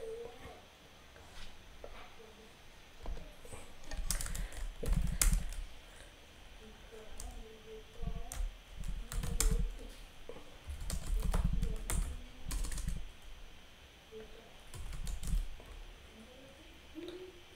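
Fast typing on a computer keyboard while working at a command line, bursts of rapid clicking keystrokes with pauses between, close up, with occasional quiet talk in the background.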